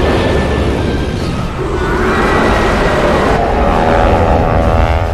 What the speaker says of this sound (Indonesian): Imhotep melihat Rich dan lainnya yang datang dengan menggunakan pesawat